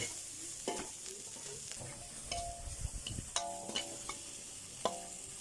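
June beetles roasting in a dry pan, giving a soft steady crackle with scattered sharp ticks and scraping stir strokes, close up, no talking.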